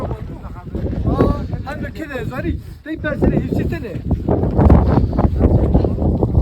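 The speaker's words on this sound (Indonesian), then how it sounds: "Di sini kita langsung terkena angin yang cukup kencang." Strong wind buffets the microphone at camp 2 on Mount Ararat, a loud continuous roar and rush on an exposed mountain slope.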